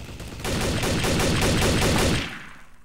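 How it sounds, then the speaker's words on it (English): Automatic gunfire from Trouble in Terrorist Town comes as one sustained rapid burst of shots lasting about two seconds, loud and close, then fades out with no talking. "KOS Waldo, he just shot at me"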